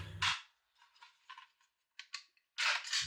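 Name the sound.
charging the rifle with an empty magazine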